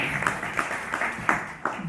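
A small crowd claps at a citizens' gathering in Conches-en-Ouche, France, applauding a newcomer's quickly learned French; light, uneven clapping with a few louder individual claps standing out.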